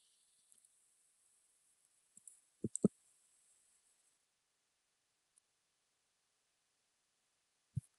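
A few faint, sparse computer mouse clicks, a quick pair together and another after a long gap, in near silence.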